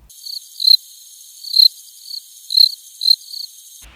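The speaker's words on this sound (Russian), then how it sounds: "на первой скорости вентилятора начинает идти стрекот из моторчика" Heater fan motor in a Hyundai Solaris or Kia Rio on first fan speed, giving off a cricket-like chirp: short, high, close chirps repeating in a fairly regular rhythm over a quiet background.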